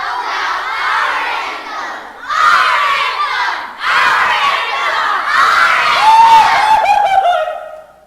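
A crowd of children screams and shouts in loud overlapping bursts at a theatre production of The Princess and the Pea, the yelling swelling in waves and ending in a higher sustained shriek.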